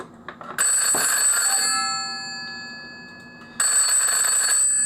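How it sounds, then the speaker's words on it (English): An old telephone's bell rings loud and close in two bursts, a metallic trill about a second long, then a decaying ring, then a second burst after a short gap. "There you go, it's ringing if I let the switch up."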